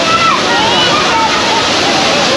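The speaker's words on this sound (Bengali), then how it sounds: "সামনে যাচ্ছি না, তার কারণ প্রচণ্ড জলের ঝাপটা আসছে" Gundicha Ghagi waterfall in Keonjhar, Odisha, roars with heavy spray, a loud, steady broadband rush of falling water close by with no letup.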